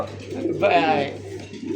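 A large pigeon, one of a big Baghdadi-type breed, coos once with a clear throaty call, fairly close over a low steady hum and background murmur.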